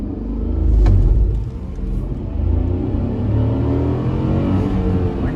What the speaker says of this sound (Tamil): ஸோ இப்போ இனிஷியல் பிக்கப் எப்படி இருக்குன்னு பார்க்கலாம்.